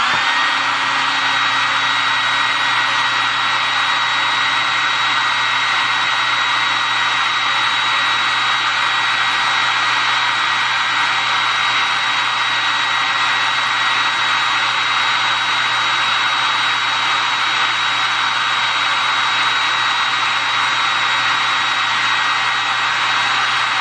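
A heat gun blows steadily while vinyl wrap is stretched over Ford Fiesta ST interior trim, a loud, even airy roar with a faint high whine that runs unbroken and alone throughout.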